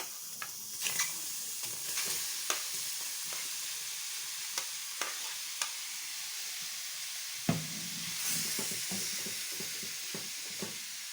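Tomatoes hit a heated, dry pan, making a soft continuous sizzle with scattered faint stirring clicks and taps, quiet and close, with no talking.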